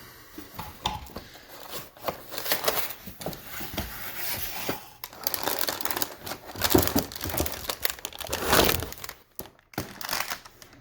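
Graphics card packaging for a GPU mining rig being cut open, with dense crinkling, crunching and cracking of cardboard and plastic and scattered thunks, fairly close and continuous for about eleven seconds without talk.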